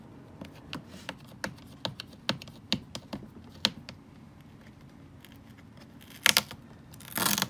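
Tape peeled from the bottom of a plastic Little Tikes First Fridge toy: a run of sharp, close clicks and taps, then a short ripping rasp and a louder tearing burst at the end.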